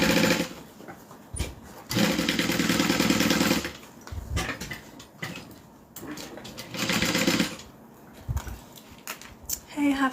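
Sewing machine stitching an Aries bag with modifications, running in bursts of steady whirring with pauses between, fairly close, amid background noise and some indistinct voices.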